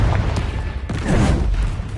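Fiery Confringo blast spells from Hogwarts Legacy erupt as dense, booming bursts with low rumble, firing loudly in close succession over roughly two seconds of continuous magical combat noise.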